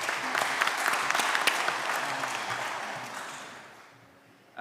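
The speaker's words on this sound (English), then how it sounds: "Round of applause for our Minister, Tom Malwindo." A conference audience in Namibia applauds for a minister, a full round of clapping that gradually thins and fades out, with a brief thump at the very end.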